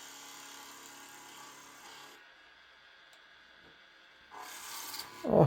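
A skew chisel takes a peeling cut on wood spinning on a lathe while shaping a small dry vase, giving a steady rasping scrape that stops briefly, then resumes louder, close and alone.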